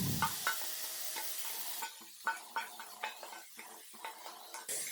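Marinated mushrooms sauté with spices in a pan, a low sizzle punctuated by repeated clinking scrapes of a spatula stirring against the metal, close and clear.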